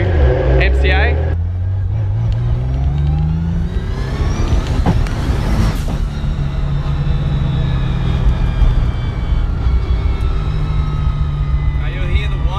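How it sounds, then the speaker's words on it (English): A car's straight-cut six-speed sequential gearbox with paddle shift whines steadily and loudly over the engine drone, its rising pitch climbing with the revs through the run. "You'll hear the whining sound as the gearbox. It's a straight cut gearbox, 6-speed sequential"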